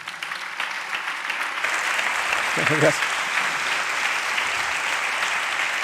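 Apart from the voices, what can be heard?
audience applause for a speaker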